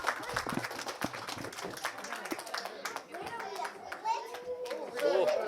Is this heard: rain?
no